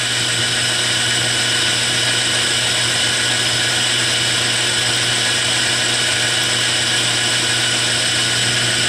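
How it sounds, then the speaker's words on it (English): A 1/4 inch drill bores a hole for a 1/4-20 screw while building an expanding mandrel, a loud steady whine running unbroken and close with no talk. "I got a 1/4 inch drill and I'm going to just drill to a depth"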